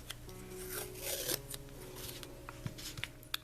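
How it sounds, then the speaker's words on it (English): Painter's tape peels off painted firecracker bundles in a quiet room, a few soft rasping strips and small clicks close by. "The paint is all dry, so I'm going to peel the tape off again."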